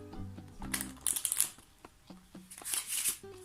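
Two piles of playing cards are riffled into each other during a card trick, producing bursts of fast, crisp flutter and snapping at close range, with short gaps between the riffles.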